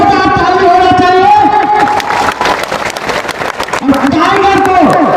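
A crowd at a rally stage claps and cheers as music with a sustained melody plays loudly over them, the applause running throughout.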